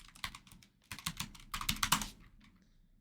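Close, quick typing on a computer keyboard, clustered bursts of crisp key clicks with short pauses between, alone with no talk.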